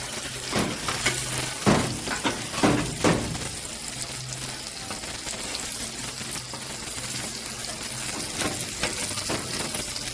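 Shrimp and chicken for scampi sizzle steadily in hot pans, with a few clattering knocks early on as the pieces are flipped, then a continuous close frying hiss with no talking.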